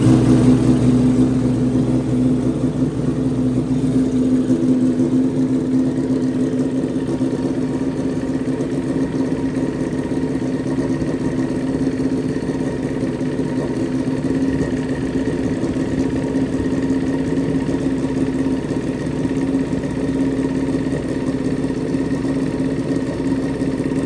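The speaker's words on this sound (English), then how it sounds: "So now we'll start the bike." A motorcycle engine runs at a steady idle throughout during an ignition timing check, a loud, even mechanical drone with a constant low rumble and no revving or pauses.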